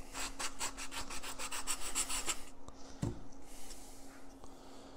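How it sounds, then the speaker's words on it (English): Steady rhythmic rasping of 320-grit sandpaper rubbed back and forth over driftwood, close and continuous, then it stops and a few small knocks follow. "So I'm going to do a bunch of sanding"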